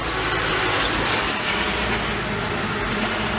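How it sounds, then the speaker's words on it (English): Water gushes steadily from a tap fed by a tankless water heater in an RV, a loud, continuous broadband rush; no distinct igniter clicks stand out above the flow. "the clicking you hear is the igniter starting the flame"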